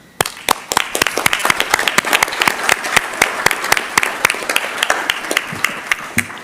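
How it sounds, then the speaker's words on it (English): A room of attendees at a state transportation commission meeting gives a round of applause, with crisp, distinct hand claps that build into a steady, fairly loud burst lasting several seconds. "So I want to give all of you a round of applause."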